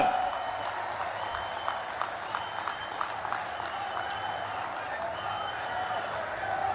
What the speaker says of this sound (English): Give big applause for our Prime Minister.